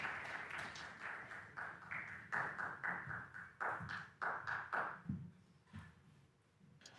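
Applause for Kyren Wilson drifting over from another table at a snooker tournament, a quiet distant patter of clapping hands in uneven bursts, with a few sharper taps before it fades away.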